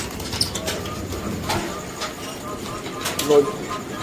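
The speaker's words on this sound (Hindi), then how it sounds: "इधर पंजाबी कबूतर है।" Punjabi pigeons in a shop cabin coo softly in low murmurs beneath a busy shop din, with a brief wing flutter near the end and people talking over it.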